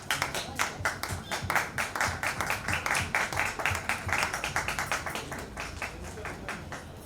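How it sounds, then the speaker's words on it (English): Audience applauding at an event welcoming a guest on stage at an ASICS preview for the Tata Mumbai Marathon; dense, steady clapping with sharp individual claps, fairly close and sustained throughout. "Can we have a big applause for Miss Bopanna on stage?"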